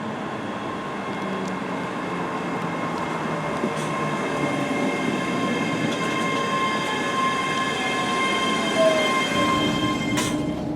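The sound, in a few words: ScotRail train arriving at Glasgow Queen Street station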